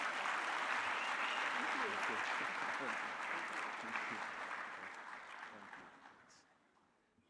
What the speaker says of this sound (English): Another round of applause to the partners.